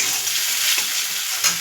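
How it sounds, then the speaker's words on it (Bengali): Onion, tomato and ginger paste sizzle and spatter steadily in hot oil, with occasional stirring, close and continuous with no talking. "এবার আমি তেলে পেঁয়াজ আর টমেটো কুচিগুলো ভেজে নিয়েছি"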